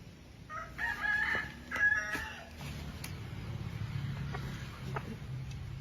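Up close, a rooster crows in a long ragged call, followed by a steady low clucking from chickens.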